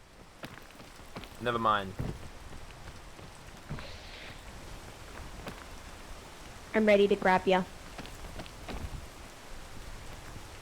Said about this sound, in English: Fucking hate rain